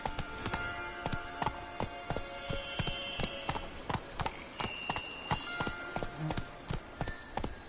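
Horse hooves clip-clopping at a steady gallop in the Witcher 3 video game, a continuous run of sharp, evenly spaced hoofbeats over a busy background of ambient game sound.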